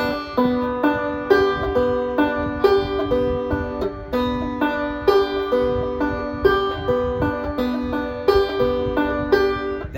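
A banjo plays a repeating finger-picked roll, with thumb, index and middle fingers picking in a quick, even, bright pattern of plucked notes, close and alone.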